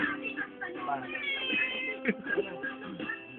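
A cat meows repeatedly, somewhat muffled, while people talk over it throughout at a birthday party.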